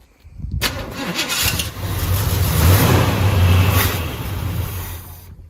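A 1972 Chevy Cheyenne C20 pickup, left unused for 16 years and fitted with a new fuel pump, cranks and catches, then runs with a loud, rough, rising engine roar close by before settling back down.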